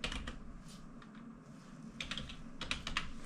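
Keyboard typing on a computer during a video editing lesson, a few scattered key clicks followed by short quick bursts of taps, soft and close over a low background hum.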